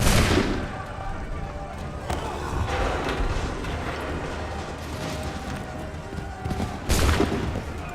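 Musket volleys in the Assassin's Creed III video game: a loud, ragged burst of massed gunfire opens, then a crackling, busy battle din continues, and a second sharp volley lands near the end, with voices shouting over the fighting.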